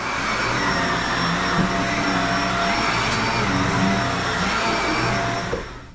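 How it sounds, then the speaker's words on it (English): A vacuum cleaner runs steadily through a room in an Alaska homestead, a loud close continuous whine and rushing roar holding constant for several seconds before easing slightly at the end. "Let me vacuum up this room"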